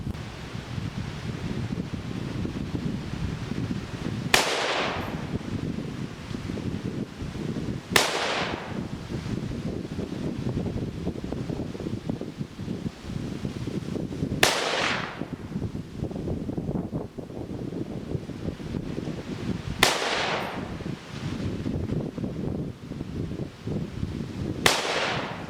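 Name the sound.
Smith & Wesson M&P 10 rifle shots at 100 yards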